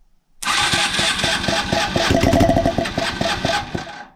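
A Yamaha SR 125 scrambler motorcycle engine catches on the starter and fires briefly, a loud close single-cylinder putter with rapid regular pulses for about four seconds before fading out.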